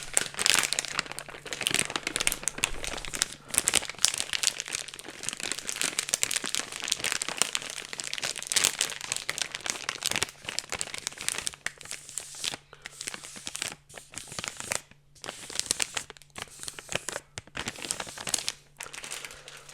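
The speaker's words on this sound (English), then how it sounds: "I decided to bring one of those ice pads, these cold pads that you use." Crinkly plastic cold ice pack being squeezed and rubbed up close for ASMR, steady dense crackling and crumpling that carries on throughout with brief pauses, with no talking.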